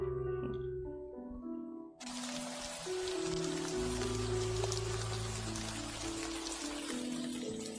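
Steady rain falls continuously, a broad hiss of drops that starts abruptly and holds at a constant level over a soft tonal music bed, with no talking.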